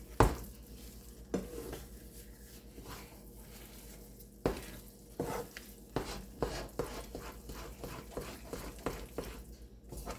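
A spoon stirs melting jaggery in a pan for the Indian sweet gundar paak, giving soft, irregular scraping strokes over a faint, steady sizzle at close range.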